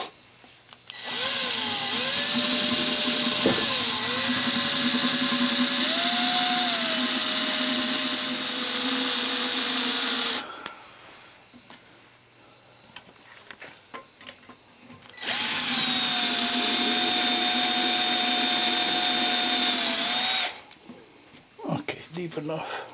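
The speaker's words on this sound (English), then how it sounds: "I'm going to drill some 1/8 inch holes here." A small concrete drill with a 1/8 inch bit bores holes into a concrete garden statue under repair, running in two long, loud, steady spells with pitch shifts as it bites, separated by a quieter pause.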